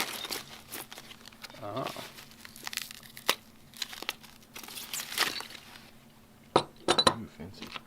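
Crinkling and tearing of heavily taped packaging as TRS racebars for a Honda Grom are unwrapped, with intermittent rustles and sharp rips under brief speech.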